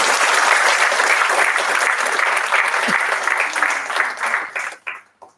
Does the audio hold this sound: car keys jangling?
no